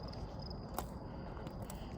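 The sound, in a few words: crickets chirping at night near railroad tracks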